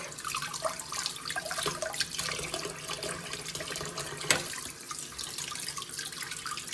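Tap water runs steadily into a sink as pork neck bones are rinsed for a neck bones and potatoes dish, with a constant splashing wash and a faint clatter partway through.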